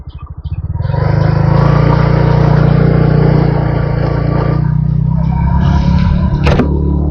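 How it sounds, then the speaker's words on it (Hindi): A TVS Ntorq 150 scooter riding at about 20 km/h, its engine giving a steady close drone with a brief rising start, loud and continuous throughout with no talk over it. "तो देखो मैं अभी इसका स्पीड 20 में चला रहा हूँ, देखो गाड़ी का आवाज़ सुनो।"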